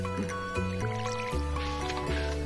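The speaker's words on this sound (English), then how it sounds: "I gotta water my flower." Watering a flower in the farming video game Stardew Valley, a steady game water-pouring effect sitting over tonal background music, with no speech.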